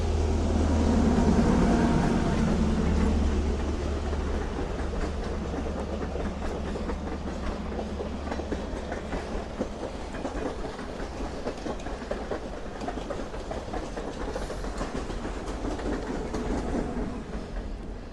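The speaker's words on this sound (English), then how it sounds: "That's a train that runs from Jim Thorpe and goes up to Whitehaven and then back down." A scenic railroad train running between Jim Thorpe and Whitehaven passes by with a loud, close rumble that swells early on, then settles into a continuous rolling clatter of wheels on track.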